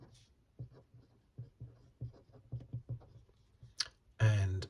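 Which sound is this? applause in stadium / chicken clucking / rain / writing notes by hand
writing notes by hand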